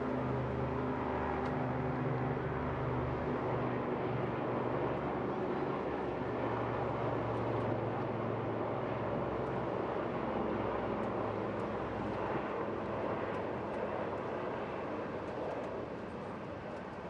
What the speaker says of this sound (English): leading from front, the wonderful Swordfish, ladies and gentlemen, from the Royal Navy at Yeovilton, Taranto formation